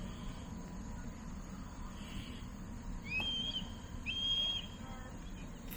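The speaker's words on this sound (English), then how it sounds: "Hopefully y'all can hear that hawk up top" A hawk calls overhead beside a river while fly fishing, giving two thin, high, drawn-out cries a second apart over a steady rush of flowing water, faint and distant.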